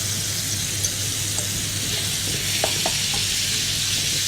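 Chicken sizzling as it fries in a pan for an iftar dish, a steady close hiss with a few small pops and spatters and no talking.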